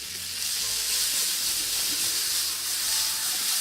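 Steady loud sizzle and hiss of a topping sautéing in a hot pan for roast lamb, a dense continuous frying crackle held close up, with no talking over it.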